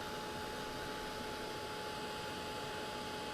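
Steady, close whoosh of a hair dryer drying acrylic paint on a painted Highland cow piece, a constant broadband airflow hum with a faint whine running unbroken throughout.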